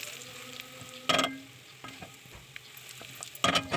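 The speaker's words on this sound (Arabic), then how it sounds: "هنزل بقى بشويه صغيره من الزيت ومعلقه صغيره من السمن البلدي في الحله، وبعد كده احمر فيها الثوم" Garlic and tomatoes fry in oil and ghee in a pot with a low, continuous sizzle, broken by two loud bursts of hissing and occasional stirring taps.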